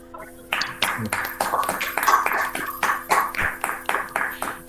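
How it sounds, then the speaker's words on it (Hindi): Online open-mic participants in a poetry and shayari session clap with microphones open, giving a fast, uneven patter of close, slightly clipped claps over a faint electronic hum. "जो विनर है एक बार सब अपना माइक ओपन करके ताली बजाएं"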